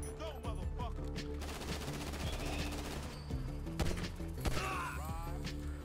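Gunfire in Grand Theft Auto V comes in sharp bursts of several shots that cluster in the middle and near the end, set against game sounds and some faint voice.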